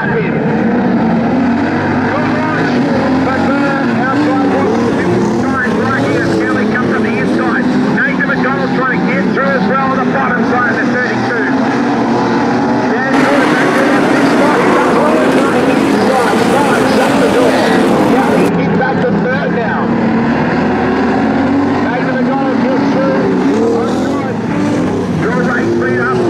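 Modified sedan race cars lap Charlton Raceway in an Australian title heat, with a loud, sustained engine roar that swells as a pack passes close, while a commentator talks over it throughout.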